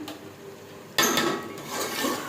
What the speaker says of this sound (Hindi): ये देखें, अब इसको भूनते हैं।